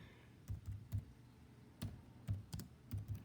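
Keys tapped on a computer keyboard to enter a search term during a science lesson, sounding as a few separate soft clicks and short bursts spaced irregularly, fairly close and quiet.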